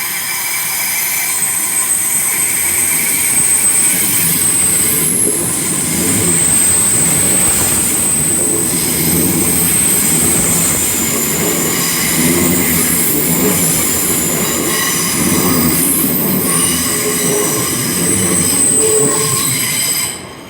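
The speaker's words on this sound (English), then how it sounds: "Right, departing platform 1 is a service to Hereford." A train pulls out of London Paddington station on a service to Hereford, with loud, sustained wheel squeal and rumbling rail noise throughout, close by and without speech.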